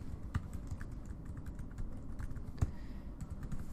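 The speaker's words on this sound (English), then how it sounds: "I type in my email address here" Quiet, steady typing on a computer keyboard while entering an email address, soft irregular key clicks with a couple of slightly heavier taps, alone without talk.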